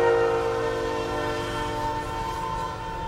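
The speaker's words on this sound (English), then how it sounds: "Oh, damn, that train." A train passes close by outdoors, a loud steady rumble with sustained horn-like tones droning throughout, no voices over it.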